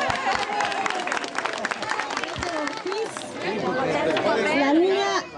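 Applause and crowd chatter at a children's running race held for Children's Day, a lively babble of voices with a clapping swell building toward the end, plus a loudspeaker voice over the top.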